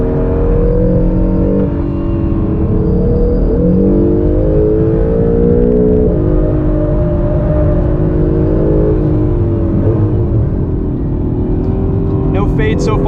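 A 2020 Acura NSX sports car braking into a corner on a track, the engine loud and steady from inside the cabin, its pitch shifting as speed drops, with brief higher squeaks near the end.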